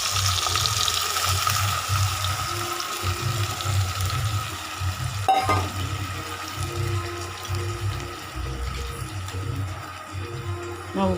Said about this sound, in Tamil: இப்போ இந்த காராமணி வேஸ்ட் தண்ணி நம்ம ஊற்றிக்கலாங்க.